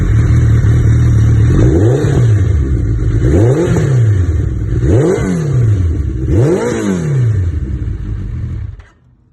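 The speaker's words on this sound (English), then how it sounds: "took off the Yoshimura, put on Twobrothers bolt-on exhaust" A Suzuki Hayabusa with a Two Brothers bolt-on exhaust replacing the Yoshimura revs loudly up close, four rising and falling throttle blips over a steady idle before the engine cuts off.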